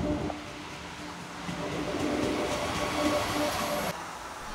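KTX-Sancheon bullet train in a station platform setting, a steady broadband rumble and hiss of the train running at close range, fairly loud and even throughout with a faint tone near the start and a sharp knock at the end.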